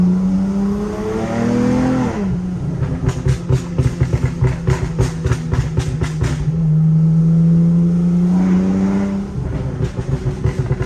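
A car accelerates hard in first gear, its engine revving loud and close in rising sweeps, with rapid pulsing bursts mid-run before it settles and climbs again.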